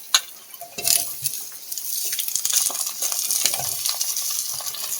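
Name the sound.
frying potatoes and eggplant with onion in pan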